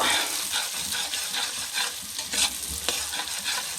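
Garlic is stir-fried in a pan, giving a close, steady sizzle broken by repeated scraping strokes of the spatula and no talk.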